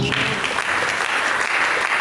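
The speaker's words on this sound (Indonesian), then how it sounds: "Dengan tepuk tangan." Audience applause at a church sermon, a dense, steady wash of clapping that fills the space evenly from start to finish.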